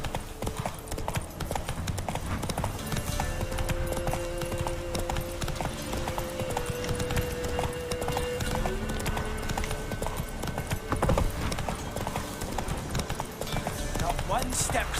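Hooves of Roach, a horse in The Witcher video game, clip-clop in a steady continuous rhythm on the ground, with game music and occasional voices layered over it.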